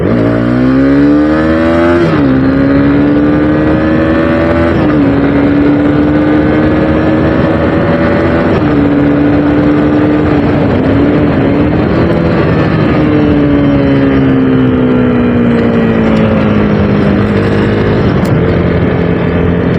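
A loud Honda CB300R motorcycle engine revs and pulls steadily through the gears, its pitch rising and dropping repeatedly as the bike rides along.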